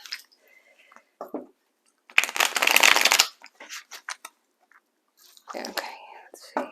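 A deck of Infinity Oracle cards being shuffled during a tarot-style reading, with short papery riffles and a longer burst of card rustling, mixed with soft whispered speech.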